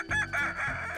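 A Kukuak Balenggek rooster crows nearby, a single loud, tonal call lasting about a second with a stuttering, multi-part rise and fall, heard on its own.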